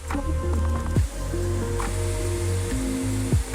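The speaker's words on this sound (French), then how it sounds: "Le véhicule est premièrement entièrement rincé à l'eau chaude." Hot water rinses a Porsche Taycan GTS Sport Turismo, a close, continuous hissing spray splashing on the car body, with a few brief shifts in the flow.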